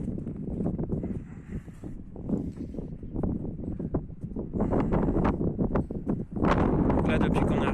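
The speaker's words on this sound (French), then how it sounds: "Bon là il y a du vent donc à mon avis ça va faire du bruit." Wind buffeting a microphone outdoors in a desert region, rumbling gusts throughout with people talking over it.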